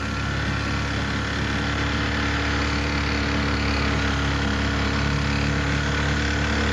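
A boat's outboard motor runs loud and steady at close range, a dense continuous drone in an alligator wildlife refuge, with no voices.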